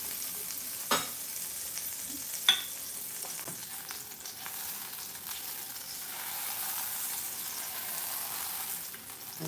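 Pancake batter fries in a pan for high protein pancakes, a soft steady sizzle beneath a couple of sharp clinks and light scraping at close range, without any voices.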